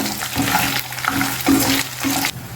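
Cashew nuts sizzle in hot oil while being stirred for gongura pulihora, with loud, close scraping strokes against the pan repeating every half second or so over a continuous frying hiss.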